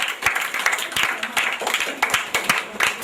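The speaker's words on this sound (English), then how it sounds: "A round of applause for them." Audience applause at a schools debate, steady clapping through the whole stretch with scattered sharper claps and some murmuring voices mixed in.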